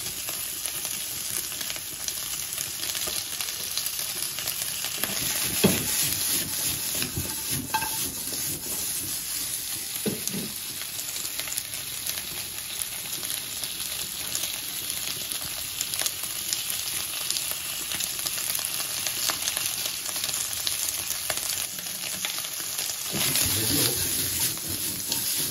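Smoked etag, a cured pork, sizzles as it sautés in a pan, a continuous dense crackle with occasional scrapes and light clinks of utensil on pan throughout, fairly close and steady, with no talking.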